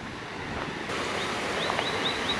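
Water pours over a spillway at a clear, shallow Texas fishing spot, a steady rushing wash with faint bird chirps in the background.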